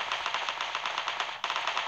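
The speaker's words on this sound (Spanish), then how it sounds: "Vale, escucho disparos," Rapid automatic gunfire in the PUBG Mobile battle royale game, a steady rattling burst of shots with a brief break near the end, fairly distant and with no talk over it.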